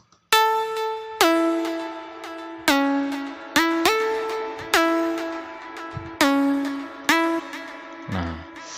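A synth intro made with the Silent One plugin and New Life, with plucky, bright notes struck about once a second. Each note decays and then bends upward into the next, loud and upfront and alone.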